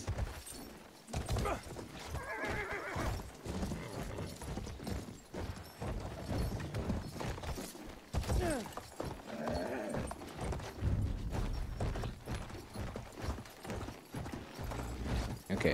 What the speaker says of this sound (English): Have my own horsey boy now.